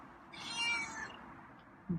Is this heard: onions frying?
no